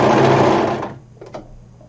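A sewing machine stitches a curved seam in fabric, giving a fast, close whirring run that stops after about a second, followed by a couple of faint clicks.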